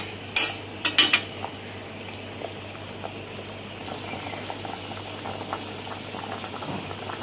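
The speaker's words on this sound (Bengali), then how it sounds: "এবার ভালোভাবে এটাকে খানিক্ষণ বেশ খানিক্ষণ ভালোভাবে ফুটিয়ে নেব" Hilsa fish curry bubbling in a pot, with a few sharp clinks of a utensil at the start, then a steady soft simmering burble close by and no speech.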